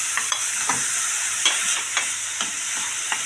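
Chopped onion sizzles and fries in a pan, a steady bright hiss broken by regular scraping stirs, close and loud with no talking.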